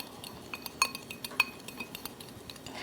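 A spoon stirring dry spices and ground pepper together for a prime rib rub, with quick light clinks and scrapes against a bowl, close and quiet.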